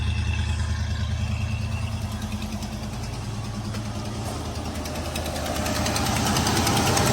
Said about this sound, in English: Got a little bit of an exhaust leak somewhere